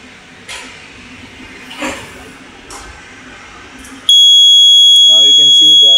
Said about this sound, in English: We'll just proceed with the smoke detector's activation.